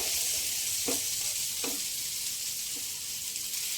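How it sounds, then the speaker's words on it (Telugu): Aloo fry: potatoes frying in a pan with masala, a steady hiss of sizzling oil with a few soft stirring scrapes, close and continuous. "చక్కగా ఇలా వేయించేసుకోవడం."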